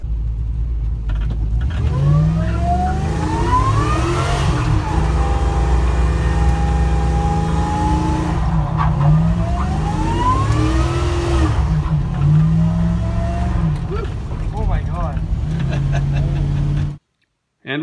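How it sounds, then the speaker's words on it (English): A race truck engine roars and revs hard on a test drive after a new fuel system was fitted, rising and falling through repeated gear pulls, loud and close for the whole run before cutting out abruptly near the end. "go and drive the snot out of the truck just like I always enjoy doing"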